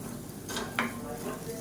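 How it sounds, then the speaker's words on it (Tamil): Food being stirred and mixed in a pan for a lunch-box rice dish, with salt just added: a short scraping stir around the middle over a low background, a brief clink of the utensil, close and fairly quiet. "நல்லா மிக்ஸ் பண்ணி விட்டுருலாம்"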